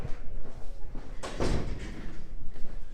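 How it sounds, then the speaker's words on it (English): An office door in a restaurant's executive area is shut, giving one brief thud midway through, with faint room noise and shuffling before and after it. "Shut the door."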